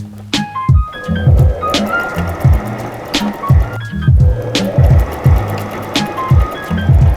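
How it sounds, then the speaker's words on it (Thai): A sewing machine stitches straight lines back and forth to patch fabric, running in loud, close, rhythmic bursts of rapid mechanical clatter separated by brief pauses. "เราก็จะใช้ลายเส้นตรงนะคะ ในการเย็บ ย้ำไปย้ำมานะคะ"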